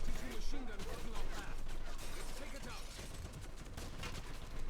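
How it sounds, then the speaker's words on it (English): Grenades blast and gunfire crackle in a dense, continuous din during PC play of the 2009 Wolfenstein shooter, with a player's voice occasionally heard over the chaos. "Grenades going off everywhere."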